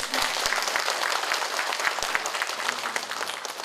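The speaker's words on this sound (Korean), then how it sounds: "다시 한 번 더 큰 박수를 보내주시면" An audience applauds after a special lecture by the director of Korea's National Institute of Ecology, a full, steady round of clapping from many hands that carries on at even strength throughout.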